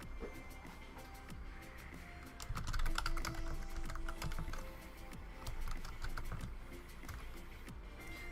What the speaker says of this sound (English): typing in chat